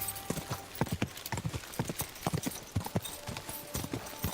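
Horse hooves clip-clop in a steady walking rhythm in Kingdom Come: Deliverance II, the hoofbeats quiet and fairly close, with no talk over them.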